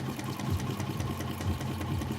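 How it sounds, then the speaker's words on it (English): A sewing machine stitching a weighted grill cover, its rapid rhythmic mechanical chatter running steadily and up close. "Back stitch at the end."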